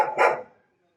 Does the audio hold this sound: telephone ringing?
no